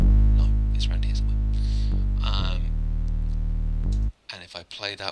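A bass pushed through the Sausage Fattener plugin, heavily distorted into a loud, buzzing, sustained growl held for several seconds, then cutting off into short, choppy distorted bursts.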